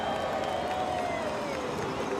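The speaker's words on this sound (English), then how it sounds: "big applause from the crowd" Crowd at the Formula E Hong Kong ePrix after a race, a broad wash of distant applause and cheering with a faint tonal whine drifting over it.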